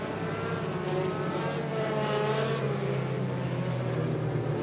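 Modified race cars roar around County Line Raceway during a heat race, with a dense, sustained engine drone that swells and fades as they pass at a distance.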